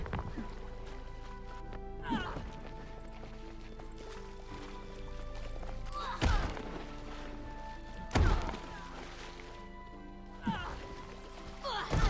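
Heavy melee thumps from a rifle bash in Guild Wars 2, struck during a battle-royale event. About four dull, punchy hits land at uneven intervals over a dense, steady bed of game music and ambience.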